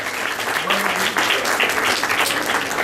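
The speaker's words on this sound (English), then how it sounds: "please give yourselves all a very, very good round of applause" A youth leadership event audience in Panaji applauds energetically, a dense, steady wash of many hands clapping for about three seconds.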